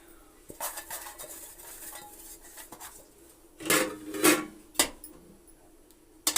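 Metal utensils scrape and clatter against a pan as dry semolina is roasted and stirred, with a few sharper clanks, close and otherwise quiet.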